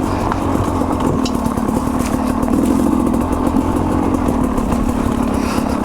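A Sherco 250 SE two-stroke dirt bike lugs along a trail at low revs, its engine a loud, steady, close burbling drone throughout, with no talking.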